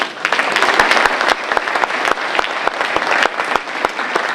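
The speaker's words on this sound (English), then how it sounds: "let's give her a round of applause" Luncheon crowd clapping for a university regent at a Founders Day event, a loud, dense round of applause that stays sustained from start to finish with no talk over it.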